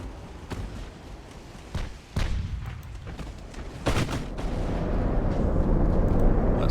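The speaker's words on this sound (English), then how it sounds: "I see my guns firing on those destroyers because they're coming in on me now." Heavy naval gun salvos from a battleship in Ultimate Admiral: Dreadnoughts, several loud booms spaced a second or two apart over a rumbling battle backdrop that swells toward the end.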